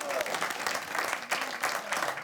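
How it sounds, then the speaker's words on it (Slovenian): An audience claps for ski jumpers, a dense, steady burst of applause from a crowd, moderately loud and continuous with a few rising swells. "En aplavz za naše skakalce, še enkrat."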